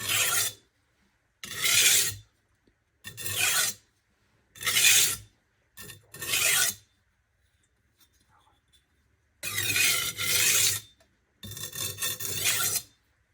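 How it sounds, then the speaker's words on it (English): A knife blade is drawn back and forth across a Norton Crystolon double-sided oilstone on its fine side. Seven distinct gritty rasping strokes come close and loud, each separated by short pauses of silence. "So I'm going to do a few burr minimization passes, just back and forth strokes"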